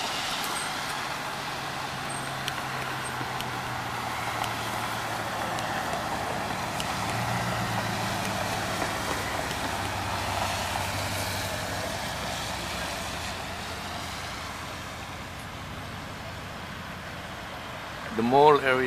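Heavy vehicle traffic rumbles steadily through a busy mall area on a snowy New Year's Eve, with trucks and cars passing and a brief squeal near the end, under a constant bustle of people.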